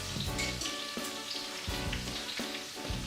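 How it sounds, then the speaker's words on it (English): Juicy Lucy burgers sizzle and crackle steadily just after coming out of the oven, a close, continuous fizz with faint popping throughout. "Those burgers are still cooking, even though I've taken them out of the oven."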